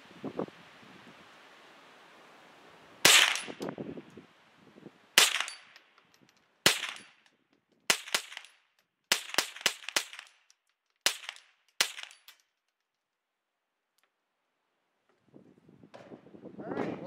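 A 10/22 rifle fires a string of sharp, loud cracks outdoors, spaced irregularly a second or two apart, with wind noise and rustling between shots and a long quiet stretch afterward.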